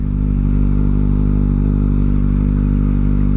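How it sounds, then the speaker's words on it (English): Motorcycle ridden on its first outing with a newly fitted aftermarket exhaust, a loud, steady deep engine drone with a throaty rumble held throughout, close up and without talk. "This is the first ride with the exhaust on it."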